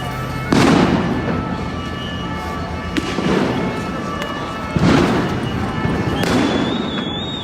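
Tear gas canisters being fired during street riots in Paris near the Tomb of the Unknown Soldier: four sharp booming launches at roughly two-second intervals, each trailing off into a crowd rumble, with a thin whistle near the end.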